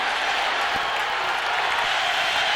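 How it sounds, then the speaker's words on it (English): A football stadium crowd at a 1995 Georgia at Tennessee college game sends up a steady wash of cheering and roaring, broad and sustained, with faint voices mixed in. "Crowd trying to get aroused here and help this Tennessee defense."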